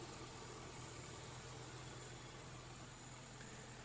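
A Toyota engine idles for the first time in six years, a faint, steady low hum with a constant noisy background and no variation in level.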